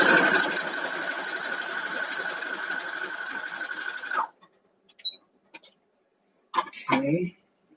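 A sewing machine runs steadily for about four seconds stitching a quilt sashing seam, then stops; a few short clicks and a brief voice follow.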